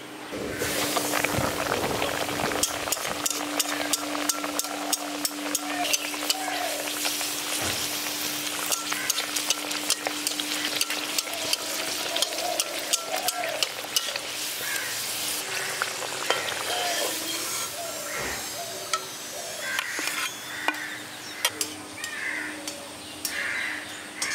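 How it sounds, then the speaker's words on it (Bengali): Potato-stuffed kachori frying in hot oil, continuous loud bubbling sizzle with sharp crackles over many seconds, crows cawing faintly in the background. "তেলটা ভালো মতো গরম হয়ে গেছে, এবার কচুরিগুলো একটা একটা করে দিয়ে দিচ্ছি।"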